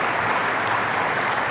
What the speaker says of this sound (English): So can we direct a round of applause in his direction